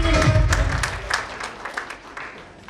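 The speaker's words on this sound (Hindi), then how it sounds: "उनके लिए भी जोरदार ताली" A hall audience at a business leaders' event claps in a burst of applause that starts fairly loud and then fades away, with a little speech in the background.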